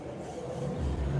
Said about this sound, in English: We got a loud car coming by.